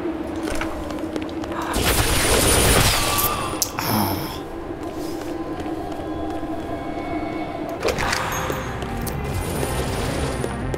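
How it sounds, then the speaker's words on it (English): Rapid bursts of video game gunfire rattle out, sounding somewhat distant and reverberant, with quieter stretches of ambient rumble between volleys. "So gunfire that's far away will sound like it's far away"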